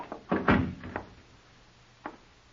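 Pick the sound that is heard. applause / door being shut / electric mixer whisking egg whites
door being shut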